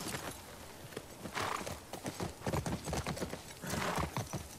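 Hooves pound in a rapid, rhythmic gallop, close and clear, with a horse's snort or whinny mixed in, from The Last of Us Part II video game.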